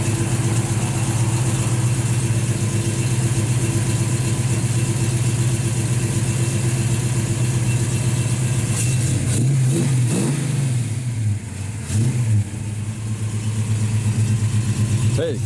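A 1966 Ford Mustang with a 302 V8 and 3-inch exhaust idles with a loud, steady rumble, then gets blipped through several quick revs before settling back to idle; a voice speaks over it.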